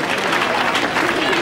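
Loud, dense applause from a crowd at an awards event in San Vito dei Normanni welcoming a guest, a continuous close wash of clapping with voices mingled in.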